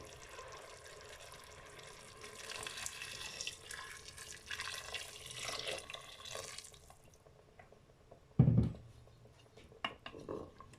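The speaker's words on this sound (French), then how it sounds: "on remet un peu d'eau" Water runs from a tap into a Cookeo pot as a steady splashing stream for several seconds, then stops, followed by a sharp clunk of the pot and a few faint drips and clinks.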